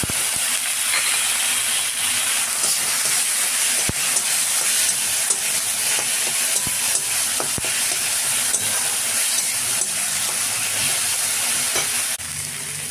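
Spice paste hits hot oil with fried prawns and onion, for a Bengali banana-flower prawn dish: a loud, steady sizzle throughout, punctuated by scattered clicks and scrapes of stirring, close up with no voices.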